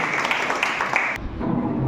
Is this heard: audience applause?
yes